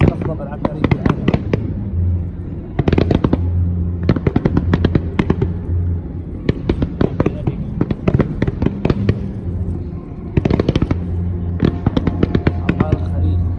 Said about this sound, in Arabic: هاي بطولة من أفضل ألعاب نارية في العالم